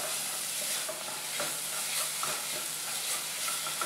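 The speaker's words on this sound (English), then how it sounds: "Now it's time to put in our dry spices, the turmeric, the red chili, jeera powder and the garam masala" Dry spices (turmeric, red chili, cumin powder and garam masala) sizzling in a pan of paneer bhurji over medium-low heat, with a steady hiss and scraping stirs throughout.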